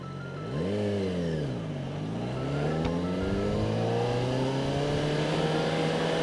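Motorcycle engines revving and passing by on a downtown Oakland street, one engine rising and dipping in pitch before a steady louder drone builds, fairly close with no talking.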